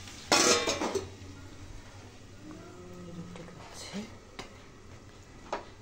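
A metal lid clanks onto a pot of cooking beans and potatoes, a sharp close clatter followed by softer utensil knocks under a woman's quiet speech.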